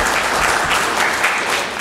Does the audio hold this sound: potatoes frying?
no